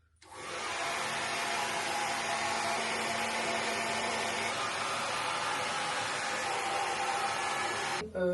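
A slightly worn hair dryer blows steadily at close range, a continuous loud whooshing hum that holds for several seconds before clicking off near the end.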